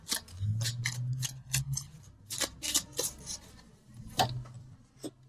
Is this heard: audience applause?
no